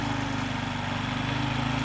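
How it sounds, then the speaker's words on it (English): A generator mounted on a slide-out tray in a van runs steadily, a loud continuous throbbing engine drone with even pulsing and no speech. "My generator, I'm gonna show y'all."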